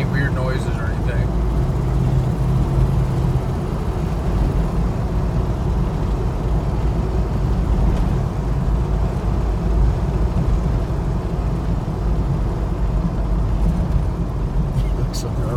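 A Jeep Grand Wagoneer cruising at about 50 mph, with a steady engine and road rumble and continuous in-cabin drone throughout, and a voice talking over it at times.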